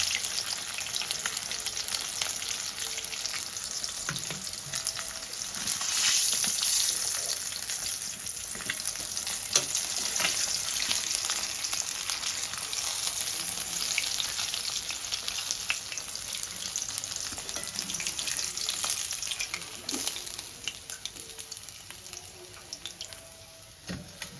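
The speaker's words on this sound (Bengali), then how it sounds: "এবার বাকি যে মাছগুলো আছে সেগুলো আমি ভেজে নেব" Pieces of kalibaus fish fry in hot oil in a pan, a continuous crackling sizzle with occasional sharper pops and stirring sounds, close up and with no talk.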